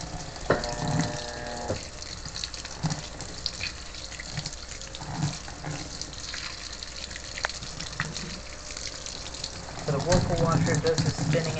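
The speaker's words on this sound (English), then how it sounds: "this goes to all cycles on the Maytag washer for the final rinse" Water gushing into a Maytag washer tub during the final rinse of a delicates cycle, a steady close pour with a swelling surge near the end, heard alone.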